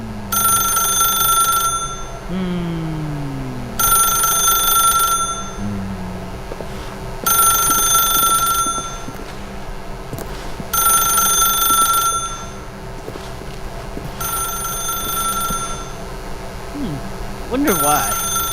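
A telephone rings in The Stanley Parable video game, sounding in four or five evenly spaced bursts about two seconds apart, loud and close, over a low game ambience with some speech mixed in.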